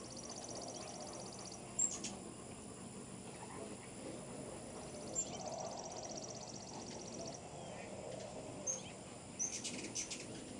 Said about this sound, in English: I could sit here all day and watch these birds